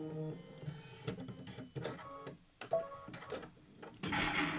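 An embroidery machine stitching out a quilt block, with rapid mechanical needle chatter in bursts, rhythmic whirring and brief pauses, close by, ending in a louder, rougher run.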